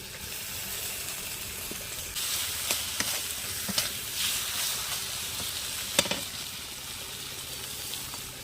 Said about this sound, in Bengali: ভালো করে আমি নাড়িয়ে নিয়েছি